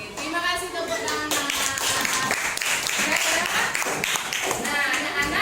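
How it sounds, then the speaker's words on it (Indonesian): Children in a classroom clap their hands together in a dense, steady round of applause that carries on throughout, loud and close, with a few voices faintly mixed into the patter. "Oke, terima kasih tepuk tangan."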